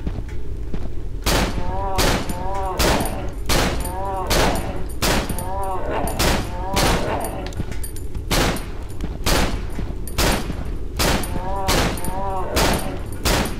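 Loud gunshots ring out while shooting an enemy in the horror video game Cry of Fear, about a dozen evenly spaced blasts with tonal vocal sounds between them.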